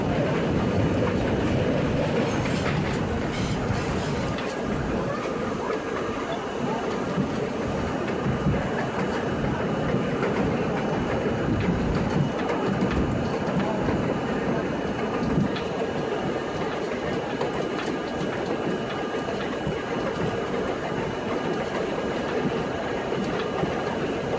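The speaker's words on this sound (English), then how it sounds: "there goes another R32 making its way towards Broad Street." A 1964 Budd R32 New York City subway train rumbles along the tracks on a Jamaica Center-bound Z skip-stop run, with a continuous roar, clattering wheels and occasional squeals as another R32 passes.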